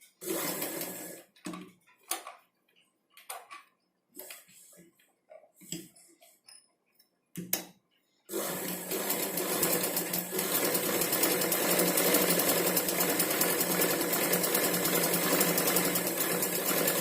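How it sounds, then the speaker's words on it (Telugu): A sewing machine stitches the top edge of a cut blouse hand: a few short, separate bursts of stitching, then a long steady run of loud, continuous machine whirring up close. "పై భాగంలో కూడా మనము స్టిచ్చింగ్ చేసుకోవాలి."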